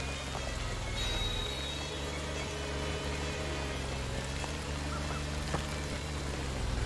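Steady rain heard from inside a car in the video game Friday the 13th, a soft even patter and hiss that stays constant and moderately faint throughout, with no voices.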